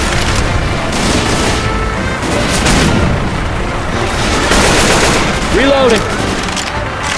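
Rapid gunfire from a zombie shooting video game, loud and dense throughout with bursts overlapping booms and explosions, plus brief game voice calls and music-like tones.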